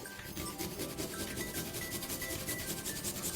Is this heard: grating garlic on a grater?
yes